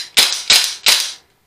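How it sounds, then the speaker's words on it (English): Pistol slide snapping forward after release, three sharp metallic clacks about a third of a second apart, each with a short ringing decay, close and loud with no talking. "When you redraw that gun out of the holster, use your slide release like it was intended. Send it forward and get back in the fight."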